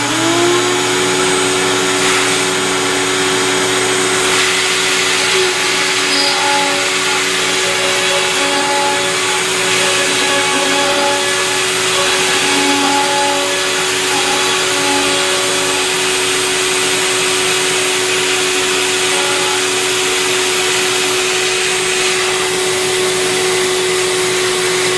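A CNC machine runs a quarter-20 insert program for joinery, a loud, steady, high-pitched spindle whine with a constant tone, accompanied by broadband cutting noise throughout, with no talking.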